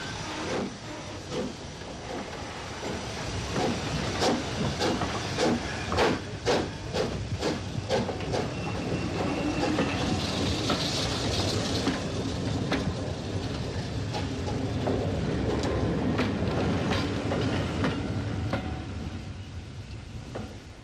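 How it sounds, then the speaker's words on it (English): A steam locomotive chuffs in slow, regular beats as it pulls its train away from a station in Ulster, with hissing steam and rumbling rail noise building over time. "begins to move her train away from the station"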